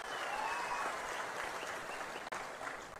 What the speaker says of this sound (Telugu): నేను చెప్పింది వాస్తవం అయితే గట్టిగా చప్పట్లు కూడా చెప్పండి